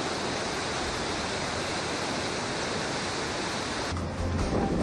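The flooded Girona river surges through the village of El Verger, a dense, loud, continuous roar of rushing water with no voices, shifting slightly in tone near the end.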